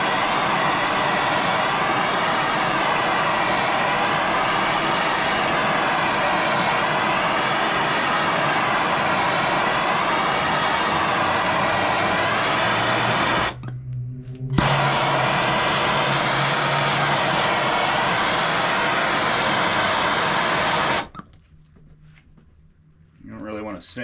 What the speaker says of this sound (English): I'm gonna take my MAP gas and I'm gonna heat up just all along here, all along this edge